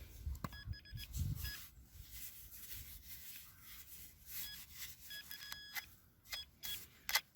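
A metal detector pinpoints a copper coin in a plug of soil, giving a few faint, short high beeps amid quiet rubbing and handling noises outdoors.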